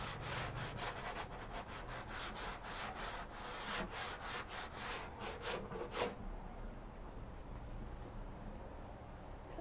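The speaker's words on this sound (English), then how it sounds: "I'm just gonna give her a gentle sanding, get the little hairs off" Rhythmic back-and-forth rasping of sandpaper on wood, quick strokes for about six seconds, then stopping into quiet room tone.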